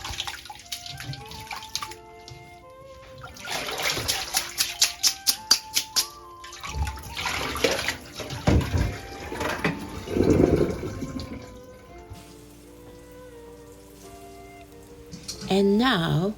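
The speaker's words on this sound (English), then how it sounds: "Rinse with cold water." Cooked somen noodles are rinsed under cold running tap water, a splashing, gurgling wash that comes and goes in bursts over background music.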